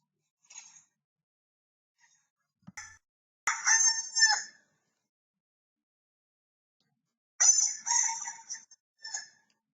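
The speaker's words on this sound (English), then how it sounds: "Would you like to hear some real sounds of some chickens?" A rooster crows in a few loud, separate bursts with silent gaps between, clear and fairly close, with nothing else around it.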